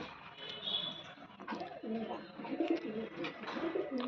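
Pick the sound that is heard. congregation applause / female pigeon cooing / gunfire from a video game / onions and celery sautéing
female pigeon cooing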